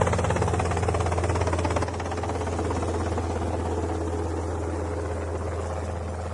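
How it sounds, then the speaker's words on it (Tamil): A helicopter landing on a hospital rooftop helipad, its rotor thumps and engine roar filling the clip, loud and continuous, settling slightly lower partway through. "மருத்துவமனை மாடியில் ஹெலிகாப்டர் வந்து இறங்குவது போன்ற காட்சி பிரமிக்க வைக்கிறது."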